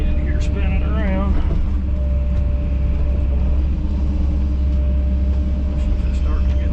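A vehicle's wheels spin in deep mud while the engine holds a loud, steady rumble throughout, and a brief voice sounds early on.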